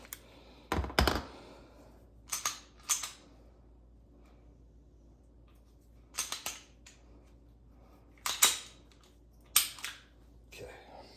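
A Springfield XDM Elite 3.8 pistol is taken apart, giving sharp metallic clicks and clacks in separate clusters with quiet gaps between them, close and distinct.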